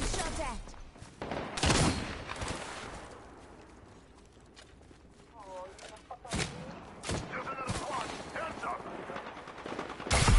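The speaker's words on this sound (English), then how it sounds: "I'm getting sniped at from behind." Sharp sniper shots and bursts of gunfire crack out in a video game match, several loud reports spaced across the moment, with a voice and quieter background game sounds between them.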